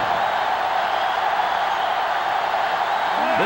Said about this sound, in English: sellout crowd is really making a difference now as these guys can't even call the play